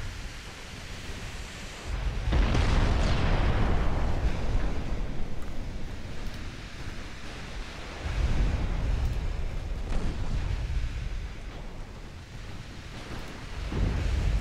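Torpedo explosions in a naval video game erupt as deep, rumbling booms that swell and fade in waves, with heavy blasts around the start, middle and end against a constant low roar.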